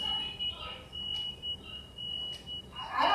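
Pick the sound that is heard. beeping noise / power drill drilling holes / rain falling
beeping noise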